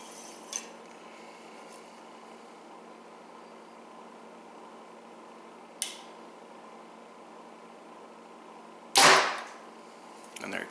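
A compound bow fired with a hinge release: one sharp, loud shot near the end, preceded by two faint clicks against quiet background hiss.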